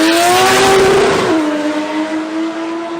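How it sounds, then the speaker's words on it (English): A Mazda 20B rotary engine in a sports compact drag car at a Brisbane drag racing event screams loud and close, revving high, then dropping pitch on a gear change before climbing again. "you can hear that 20B just absolutely singing up through the gears"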